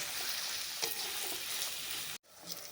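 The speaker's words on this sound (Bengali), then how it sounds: "যতক্ষণ পেঁয়াজের কালারটা গোল্ডেন কালার না হবে ততক্ষণ নেড়ে চেড়ে ভেজে নেব" Chopped onions fry in hot oil for a mutton kala bhuna, a dense, steady sizzle up close that cuts out abruptly for a moment before resuming.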